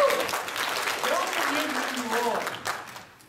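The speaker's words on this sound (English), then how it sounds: "Clap real loud." Church congregation at a Sunday Nazarene service claps loudly with cheering voices mixed in, a dense sustained burst that fades toward the end.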